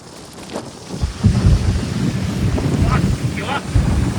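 A boat pushes through water on a windy trip, with gusty wind buffeting the microphone and splashing surges of water rising and falling close by.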